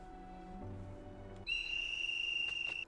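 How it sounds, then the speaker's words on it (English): In the Hakuoki video game, a soft background melody gives way to a sustained high whistle that holds steady for about a second and a half before stopping. "Oh no, a whistle."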